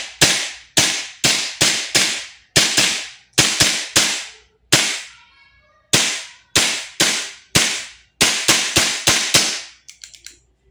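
A Kingarms TWS 9mm airsoft gas blowback rifle fires sharp, loud cracking shots in quick bursts of two to five, with brief gaps between strings, close up and with no talk.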